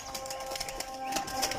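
Pigeons released from a loft in a Kasur bird-keeping setup flutter out in quick bursts of wingbeats, with a few soft calls over a steady, faint background hiss.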